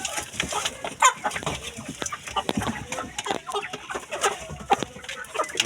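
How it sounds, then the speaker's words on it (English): Broiler chickens feed on cassava peel mash, soft clucks and pecking sounds scattered over a busy, close background of birds. "as you can see, the broilers are eating this"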